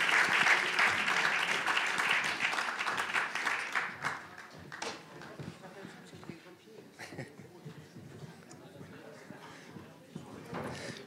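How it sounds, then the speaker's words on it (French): An audience at an evening public debate in Marseille applauds the speakers, strong clapping that fades into scattered claps, chair shuffling and murmured voices as people settle in. "On peut les applaudir."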